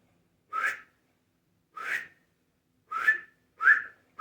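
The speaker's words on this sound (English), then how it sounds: "Now what I can't do is the between the fingers whistle" A person whistles with puckered lips in four or five short, separate notes, each a bright rising or steady tone. The notes come close and clear, with gaps of silence between them.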